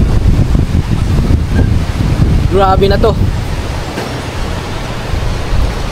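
Strong northeast monsoon wind (amihan) in coconut-palm country, a loud continuous roaring rush buffeting the microphone, with someone briefly speaking partway through.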